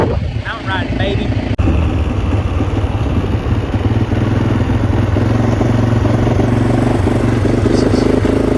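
Kawasaki Brute Force 750 ATV engine running steadily at speed on a mountain ride, a loud continuous drone with wind rush throughout and a sharp clack near the start; a voice is heard over the engine.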